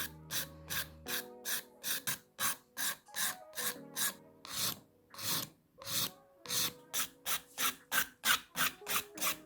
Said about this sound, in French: on va incliner légèrement la lime de façon à travailler en arc pour venir lisser ici